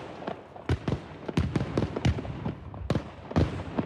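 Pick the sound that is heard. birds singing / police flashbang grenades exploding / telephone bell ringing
police flashbang grenades exploding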